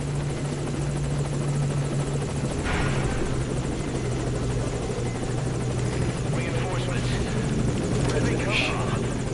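Helicopter from the Metal Gear Solid V: Ground Zeroes video game, a steady droning rotor hum with a low tonal buzz running throughout, and a few brief sharp noises on top.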